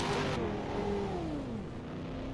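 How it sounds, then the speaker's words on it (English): A car engine revs and whines, its pitch sliding downward as the vehicle moves past at moderate distance. "I hear someone revving the shit out of their car."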